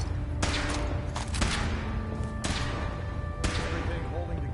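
A weapon fires in the Fallout game as a few sharp, separate blasts with ringing tails, spaced about a second apart, while voices talk.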